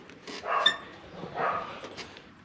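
Two close, sharp dog barks spaced about a second apart, followed by a softer yip, heard near a Mazda B2000 ute under repair.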